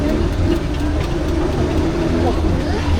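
Steam traction engine running at the Cheshire Steam Fair, a steady low mechanical rumble with rhythmic chuffing texture, close and loud throughout, with crowd noise and people talking underneath.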